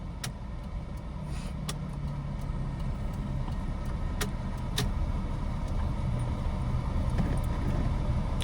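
Car engine rising steadily in pitch and loudness as a learner driver accelerates gently after a left turn, a continuous close interior drone with a few faint clicks, no talking.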